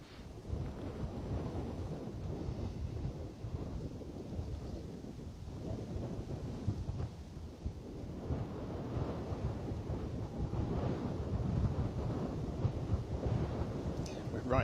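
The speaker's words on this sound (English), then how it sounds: "We're right in the wind doing this" Outdoor wind at Bristol Airport buffets the microphone with a constant low, roaring rumble that surges and eases for the whole stretch.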